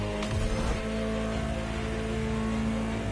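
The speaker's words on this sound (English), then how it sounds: "Just listen to the car you're driving." Ferrari supercar engine humming steadily while driving in the video game The Crew Motofest, a loud continuous drone with a brief rev near the start.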